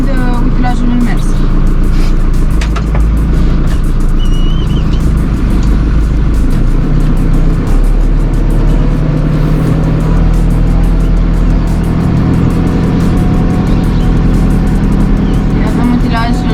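A JCB 3CX backhoe loader's diesel engine runs steadily while the machine drives in gear, a loud close rumble that stays constant throughout, with someone talking over it.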